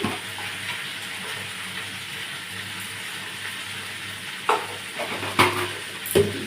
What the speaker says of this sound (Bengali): একটু ভালো করে আর একটু ভেজে নেবো লবণ দিয়ে।